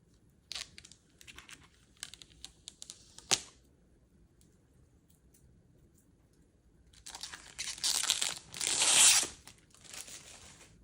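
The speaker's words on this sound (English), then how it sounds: "So I'm gonna take this film off." Protective film peeled off a table tennis rubber, close crinkly ticks and a sharp snap early on, then a quiet gap before a louder tearing, crackling peel.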